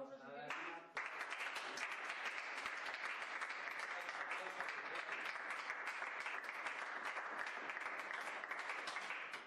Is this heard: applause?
yes